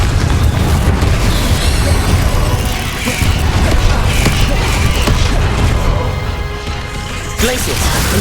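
Explosive Confringo spell blasts from Hogwarts Legacy combat, booming crashes and rumbling impacts churning continuously through a dense, loud battle din with no pause.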